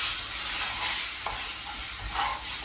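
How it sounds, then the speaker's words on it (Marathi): Water poured into a pot of fried masala paste for a rustic shengole curry makes a loud steady sizzle and hiss, with a few scraping stirs breaking through. "आता मी पाणी घालते याच्यामध्ये"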